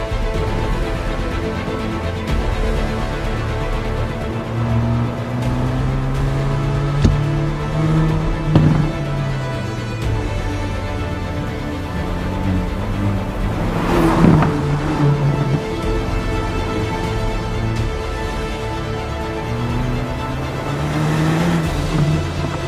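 Hyundai i30 Fastback N driven along a scenic mountain road near Monaco, steady engine drone with rising and falling revs through gear changes, heard alone at a moderate distance.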